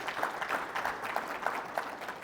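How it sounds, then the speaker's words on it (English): Convention attendees at a real estate investing panel applaud the panelists, a fairly faint, steady patter of many hands clapping at a distance, with no talk over it. "Another round of applause for our amazing panelists,"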